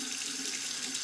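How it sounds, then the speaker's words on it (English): Hot water runs steadily from a bathroom tap to warm a double-edge razor before shaving, a continuous even hiss and splash filling the short moment without any voice. "Just temper it under the hot water."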